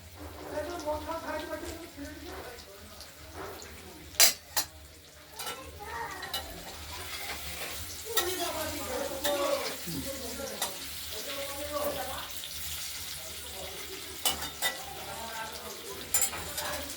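Paneer cubes frying in a pan, a soft continuous sizzle with spatula stirring and occasional sharp metallic clinks, while a person talks over it.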